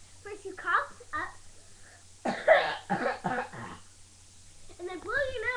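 A child coughs a few times in short bursts, with moments of quiet between and some brief voice sounds near the end.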